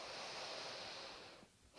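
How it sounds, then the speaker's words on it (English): A deep breath in during a gentle yoga stretch, a soft steady airy inhale lasting over a second that fades out, close and quiet with no talking. "Big breath in as you lengthen."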